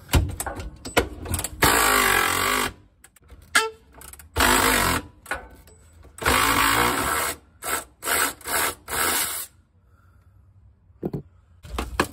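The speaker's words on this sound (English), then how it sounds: "I love an electric ratchet too." An electric ratchet working on a Jeep ZJ rear short arm mount, a loud buzzing whir in repeated bursts of a second or two, separated by short pauses and ending in quiet.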